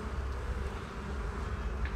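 Honeybees hum in a dense, continuous buzz inside a hive, low and steady, close by with no voices over it.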